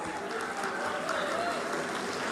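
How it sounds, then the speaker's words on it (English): Applause at an academy groundbreaking ceremony, a dense, steady wash of clapping from a gathered audience, fairly distant and continuous. "A big round of applause for all the dignitaries on the dais."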